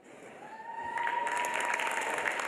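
Audience at the Miss World 2013 pageant applauding and cheering, a steady broad wash of clapping that swells louder after the first second and holds, with a faint whistle-like tone running beneath.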